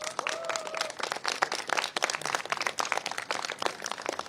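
Children and staff at a school celebration in Srinagar applaud steadily, a dense wash of clapping that runs throughout without a break.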